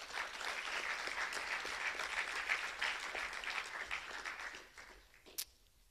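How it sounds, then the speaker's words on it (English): Faint, distant applause for female multi-sport athletes at a high school senior athletic awards event, steady group clapping that thins out and fades near the end. "we can give a nice round of applause for them"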